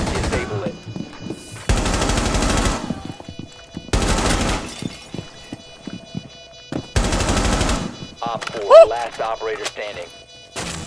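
In the Rainbow Six video game, a gun fires in short bursts, three or four loud rattling volleys separated by pauses, with a brief voice near the end.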